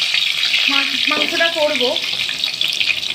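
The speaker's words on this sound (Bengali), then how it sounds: "এবার আমি না নতুন আলু দিয়ে এবার আজকে ভাজা করব" Small whole new potatoes fry in a pan with a steady, bright sizzle, while a voice speaks briefly over the hiss.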